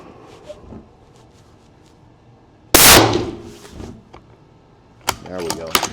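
A single loud, sharp 7 PRC hunting rifle shot fired at a long range target, its report ringing briefly before quieter mechanical clatter and a short burst of talk.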